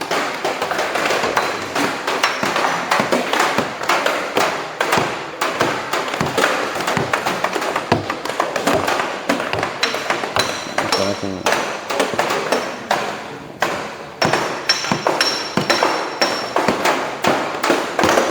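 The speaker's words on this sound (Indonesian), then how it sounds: "Kalau ada bunyi tik tik tik berarti kena." A hammer strikes a metal dolly in rapid, continuous blows, producing sharp close taps and clinks in an irregular rhythm that runs throughout, with occasional voices underneath.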